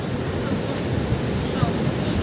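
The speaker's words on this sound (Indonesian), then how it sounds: "Kita lihat dulu suasana pantai yang ombaknya lumayan besar ya hari ini." Large ocean waves break on a beach on a rough day, heard as steady broadband roar and wash with heavy wind buffeting the microphone, continuous and loud with no clear speech.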